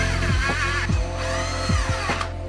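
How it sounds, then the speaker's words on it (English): A power tool whirs in short rising bursts while driving the hub dropout locating bolts into the rear wheel of an Enduro e-bike, several quick pulses close by with a steady mechanical hum underneath. "Next, install the hub dropout locating bolts."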